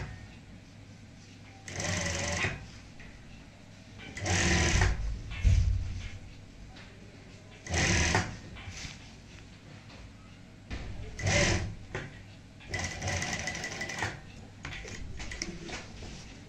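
Sewing machine stitching lace piping along a neck design, running in several short bursts of a few seconds each separated by quieter pauses, close and moderately loud.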